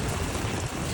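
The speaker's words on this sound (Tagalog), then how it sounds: "Lakas na ng ulan." Heavy, dense rain pours steadily during typhoon Crising in Sampaloc, Manila, a loud unbroken hiss with no voices.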